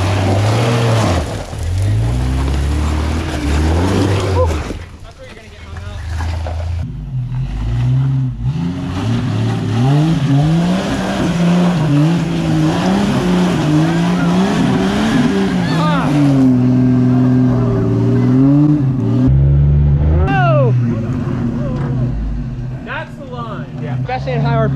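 A 5-speed Jeep XJ engine revving hard off-road on rocky trails, loud and close, the pitch surging and falling repeatedly as the throttle is worked, with voices talking over it.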